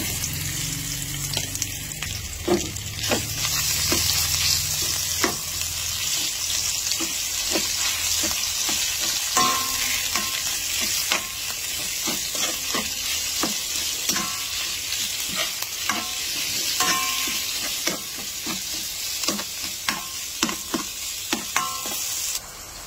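Ground pork frying in a pan, with a continuous loud sizzle and repeated scraping taps from stirring throughout.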